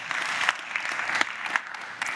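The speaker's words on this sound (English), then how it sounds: "Everyone give Pete a big round of applause." Audience at the Interbrand Best Global Brands Summit applauding Pete, a steady dense round of handclaps from a sizable crowd, moderately distant and unbroken.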